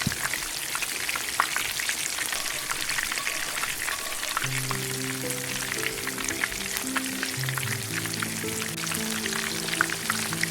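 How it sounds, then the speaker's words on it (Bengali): Diced medium potato cubes fry in a pan with a dense, steady crackling sizzle throughout, close and continuous, while soft background music enters partway through. "আলুটা হালকা একটু ভাজা ভাজা হতে দেব।"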